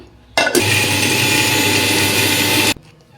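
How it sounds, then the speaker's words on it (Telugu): A mixer grinder whirs loudly for about two seconds grinding chutney ingredients, a steady high-pitched mechanical roar that starts and stops abruptly, with no voices. "వీటిని మిక్సీ పెట్టేద్దాం మెత్తగా"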